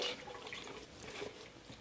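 Fresh mint rinsed under running tap water in a home kitchen: a soft, steady trickle and splash of water, fairly faint and brief, with no talking.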